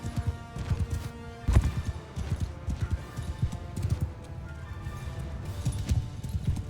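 Cavalry and horse archers' horses gallop in a Mount & Blade II Bannerlord battle, a dense continuous clip-clop of many hooves with occasional whinnies and clashes, loud and busy throughout.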